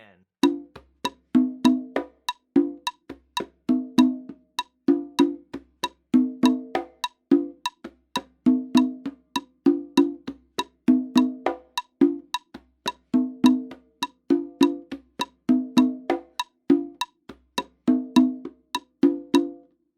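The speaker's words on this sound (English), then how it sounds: "This example is really just that shaker accent pattern on the congas." Congas play a steady, repeating Brazilian rhythm, a shaker accent pattern of crisp hand strikes with regular accents, clear and close with no other instruments.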